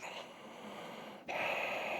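Steady hissing breath drawn through a deliberately restricted throat, a soft airy rasp that briefly pauses then returns louder and brighter, close to the microphone.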